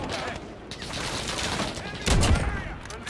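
Rapid gunfire bursts from a Call of Duty Modern Warfare match, dense and continuous with a loud heavier burst near the end, with a gamer's voice talking over it.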